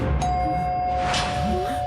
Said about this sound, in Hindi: हाँ यार, डोरबेल की आवाज आई।